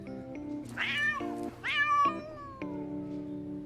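A cat meows several times in a cat cafe scene of the game Love and Deepspace, high rising and falling cries, close and clear over a faint synthetic musical backdrop.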